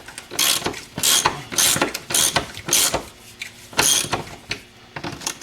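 Wrench ratcheting on transmission bolts of a Mercedes 300D, a close series of quick mechanical clicking bursts in an uneven rhythm.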